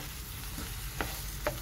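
Sliced big onion and green chillies fry in a pan with a soft, even sizzle, punctuated by two brief spoon scrapes against the pan; fairly quiet and wordless.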